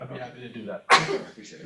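A single sharp sneeze bursts out between stretches of conversation at a village board work session, loud and brief against the quieter talking voices.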